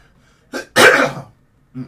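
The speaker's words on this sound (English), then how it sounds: "apologize for all the coughing" A single short cough, then a harsher, longer one, followed by a brief small cough; close and fairly loud with no talking.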